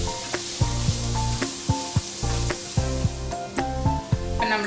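Sliced onions with salt sizzle and fry in a pan, a steady close crackle and hiss overlaid with music, with periodic stirring knocks.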